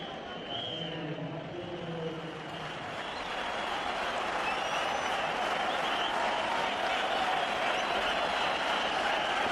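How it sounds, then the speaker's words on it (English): A cricket crowd at a 2003 World Cup semifinal between Australia and Sri Lanka applauds and cheers, a dense, sustained wash of clapping that swells louder and holds steady over several seconds. "Crowd on their feet."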